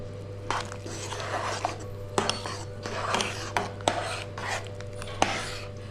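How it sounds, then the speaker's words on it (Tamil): A spoon stirs washed rice into a pressure cooker pot for vegetable pulao, giving close scraping and rubbing against the metal with light clinks and taps over a steady background hum. "இப்போ நம்ம ஏற்கனவே வாஷ் பண்ணி எடுத்து வச்சுருக்கிற அரிசியை சேர்த்துக்கலாம். சேர்த்துட்டு நல்லா கலந்து விட்டுருணும்."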